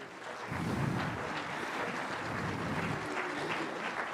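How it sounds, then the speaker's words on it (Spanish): Audience applause at an evangelistic campaign church service, a dense sustained wash of clapping that swells in after a brief quieter start and continues steadily at moderate distance without talk. "Un aplauso al Pastor Marcelo"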